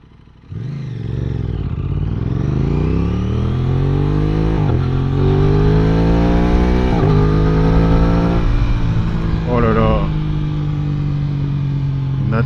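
An Aprilia RS 660 motorcycle accelerates hard from a start, its engine note climbing through several rising gear sweeps, loud and close, with brief dips between shifts.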